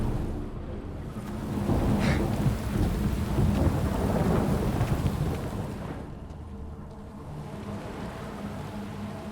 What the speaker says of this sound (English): A storm, damn it.